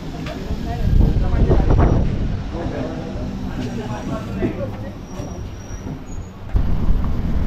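Steady rumble and rattle of a moving train interior, with people talking in Marathi over the continuous clatter throughout, during a Navratri trip.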